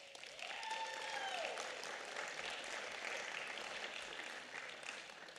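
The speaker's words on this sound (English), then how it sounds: "Please give her a round of applause." Round of applause for an honoree at a Hispanic Heritage Month recognition event, sustained crowd clapping at moderate distance with faint cheering or a whistle early on.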